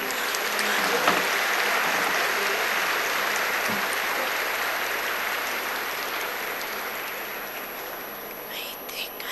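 A large seated audience applauding together at a spiritual meeting, a dense steady wash of clapping that holds for several seconds and then slowly fades, with faint murmuring underneath.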